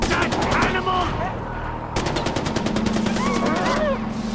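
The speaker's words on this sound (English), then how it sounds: "Keep shooting!" Gunfire in the video game Far Cry 4, loud rapid automatic bursts rattling close by in two stretches, with shouted voices over the shooting.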